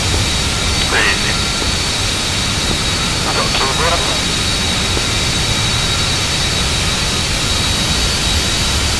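Jet aircraft roar in a DCS flight simulator Gulf War mission with F-16C jets, a loud, dense, continuous engine rush filling the whole stretch, with brief radio-like voice fragments mixed in.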